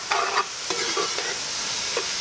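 Garlic cloves and a heaping spoonful of saffron frying in a pan, stirred with a few short scraping strokes over a steady sizzle, close and alone with no talking.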